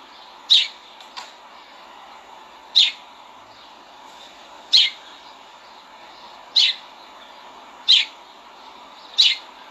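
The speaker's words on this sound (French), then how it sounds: "il y a un gros oiseau." A large bird repeats a short, high call about every two seconds, six times in all, over a quiet background hiss.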